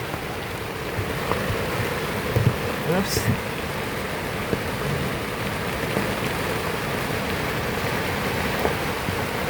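Loud tropical rain pours steadily over a sailboat on a windy day, a dense, even hiss of water drumming on deck and rigging that runs the whole time, with a brief spoken exclamation over it.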